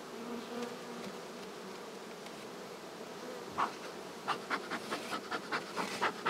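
Buckfast honey bees in a hive hum in a low, steady drone, with a series of sharper buzzy bursts as individual insects fly near, no voices.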